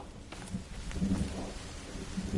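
Rain falling in the survival video game The Forest, a soft continuous patter with low rumbling underneath, steady over a couple of seconds.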